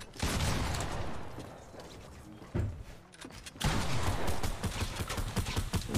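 Loud sustained automatic gunfire in the video game Fortnite, heard as rapid rattling bursts, with a short lull of quieter shots in the middle before another heavy burst resumes.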